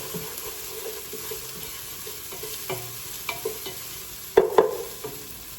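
Crushed red pepper being stirred into pumpkin pasta in a pan, with a soft continuous sizzle, scattered spoon scrapes, and a couple of louder clinks near the end.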